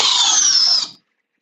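Big Josh's 801 power drill on speed 2 in drill mode drives in with a steady high whine for nearly a second, then cuts off sharply into silence; loud and close.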